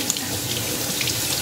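Rice is rinsed under a running kitchen faucet, a steady, close splashing stream that fills the short moment without any voices.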